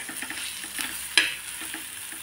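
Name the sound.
onion sautéing in pan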